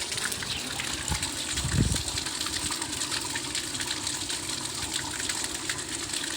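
Water gushes from a pipe on a building site, running toward a plot rather than a tank, a steady broadband rush that holds throughout with a brief low surge partway through.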